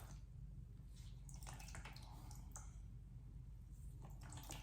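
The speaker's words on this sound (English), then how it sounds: "I'm going to wring them out so they're damp" Water drips and trickles as wet socks are wrung out by hand, a faint close splashing with small squishy bursts over a steady low background hum.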